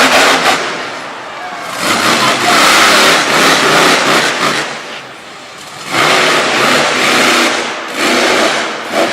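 A monster truck engine revs hard at the start of a freestyle run at a Monster Power event in Brookville, Pennsylvania, loud surging roars in several waves rising and dropping, with crowd-like noise around.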